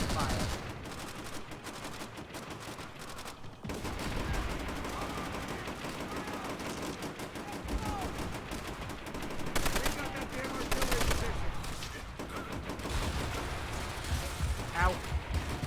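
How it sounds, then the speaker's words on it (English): An AA gun firing in Call of Duty: World at War, loud continuous rapid bursts of gunfire with a brief pause partway through, heavy booming texture throughout and a voice talking over it. "That's how fast this AA gun would actually fire."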